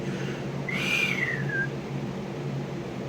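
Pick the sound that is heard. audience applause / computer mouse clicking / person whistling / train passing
person whistling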